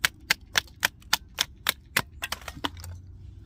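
A TRM Shadow River knife is struck repeatedly while its lock holds, giving about a dozen sharp, loud clacks in a quick, slightly uneven rhythm, close up and with no talking.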